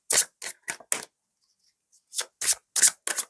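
Tarot cards shuffled up close in a series of short, crisp riffling bursts separated by brief silent gaps, with no talking.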